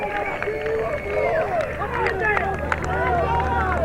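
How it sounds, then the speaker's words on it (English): A big crowd at a 1987 K&L baseball game in Plattsburgh, a lively babble of many voices and shouts filling the background beneath a play-by-play commentator talking throughout. "big crowd here from the North Tier"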